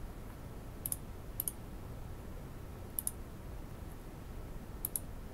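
A computer mouse clicks in quick pairs, four double-clicks spaced a second or two apart, crisp and close over a faint quiet room hiss.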